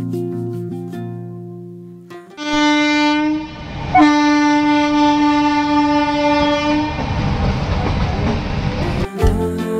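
A passenger train on the Kolkata to Ajmer route starts to move: a loud, sustained horn blares over rumbling wheels and carriage noise, then breaks off at the end.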